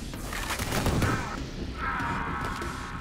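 Bowling bomb explosions in the shooter Ion Fury, a rumbling blast building to a loud burst, then a second tonal whoosh and sustained roar, moderately close and fairly dense.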